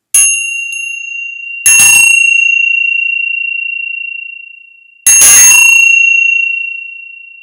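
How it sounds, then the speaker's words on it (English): A Tibetan bell is struck three times, each a bright metallic ding followed by a long, clear, ringing tone that slowly fades, loud and close in an otherwise silent room. "the Tibetan bell"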